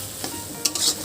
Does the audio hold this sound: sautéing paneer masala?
yes